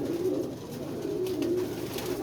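A red-eyed Sialkoti pigeon cooing close by, soft repeated low throaty coos over a steady background hum, with no talking.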